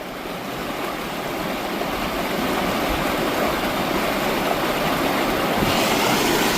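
A swift creek rushes beneath a bridge on a Florida hiking trail, a steady, loud broadband roar of fast-flowing water that holds unbroken from start to finish, with no voices.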